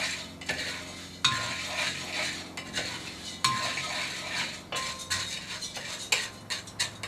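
Coffee beans roasting in a cast iron pan, stirred with a utensil that scrapes and clinks against the metal, with faint cracking and sizzling beneath, close and continuous with no talk.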